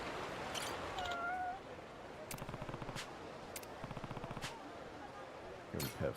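A cat in a skateboarding video game gives a couple of short, clear meows near the start, followed by bursts of rapid gunfire-like rattling and a few sharp hits against faint background sound.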